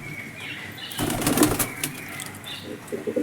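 Pigeons take off with a sudden burst of flapping wings close by, followed by softer fluttering and faint coos against quiet outdoor background.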